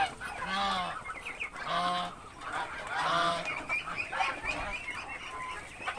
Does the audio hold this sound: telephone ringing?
no